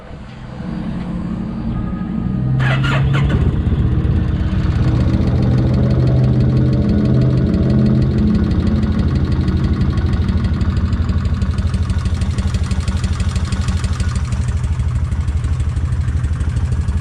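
A Vulcan 1600 motorcycle engine cranks briefly, then catches and settles into a loud, steady, rumbling idle with a faint ticking tap, close by.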